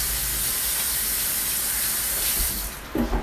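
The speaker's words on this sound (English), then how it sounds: "Let me wash my hands" Tap water running steadily into a kitchen sink during handwashing, a constant close hiss and splash, with a few brief clatters near the end.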